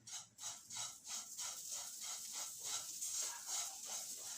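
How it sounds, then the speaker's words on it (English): Vermicelli sautéing in unsalted butter in a pan, a steady bright sizzle broken by regular stirring strokes about every half second, close and continuous with no talk. "We have to saute it well for 3 minutes at least."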